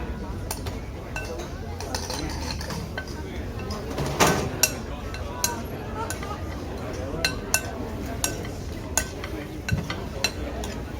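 A utensil mixing ingredients with a drizzle of olive oil in a bowl, giving light, irregular clinks and taps against the dish while a voice talks throughout.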